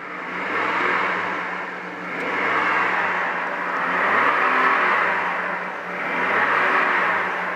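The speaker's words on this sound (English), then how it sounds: "I'm gonna do a little rev up here." A 2004 Buick Rainier CXL engine, said to need a tune-up, revs repeatedly in slow swells, rising and falling in loud waves heard up close with no talking.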